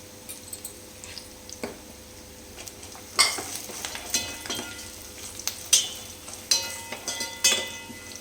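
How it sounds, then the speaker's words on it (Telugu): Curry leaves hit hot oil with fried peanuts for a poha (atukulu) mixture. A quiet hiss gives way to sharp, spattering crackles and pops that come in repeated bursts close by. "ఇప్పుడు కరివేపాకు వేసుకుందాం"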